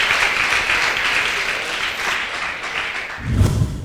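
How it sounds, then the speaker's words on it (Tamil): Audience applause in a hall during a talk show, a dense sustained clapping that swells and ends with a louder burst. "அதுக்காகவே ஒரு கைத்தட்டு கொடுங்க"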